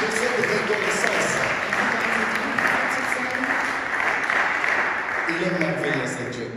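A church congregation claps together in a sustained round of applause that stays steady and dense throughout, with a voice briefly rising near the end.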